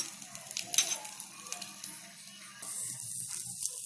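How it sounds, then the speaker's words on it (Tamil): An egg omelette fries in a small ladle-style pan, a steady close sizzle with scattered crackles and a brief scrape, turning brighter and hissier toward the end, with no talking. "இது திருப்பி போட்டு நம்ம கொஞ்ச நேரம் நல்லா வேக வைக்கணும்."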